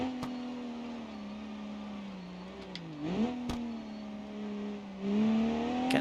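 Rally car in the BeamNG driving game running onto gravel, a steady engine drone that dips briefly then climbs again with revs, with light gravel crunch and rumble underneath throughout.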